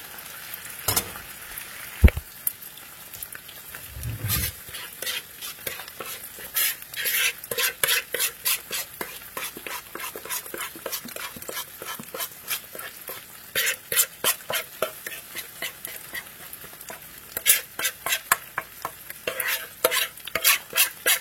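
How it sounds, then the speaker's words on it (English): Food frying in a pan while being turned over, a long run of quick, rhythmic spatula scrapes and taps over a continuous sizzle, close up, with a few louder knocks early and no talking. "And you just let them cook, you know, turn them over, let them cook on that side"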